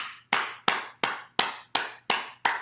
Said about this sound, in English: Now we'll stimulate the heart and lungs, starting with clapping